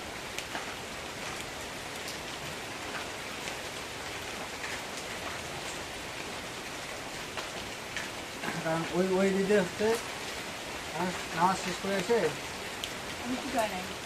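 Steady rain falls on a surface as a constant hiss, with people talking over it.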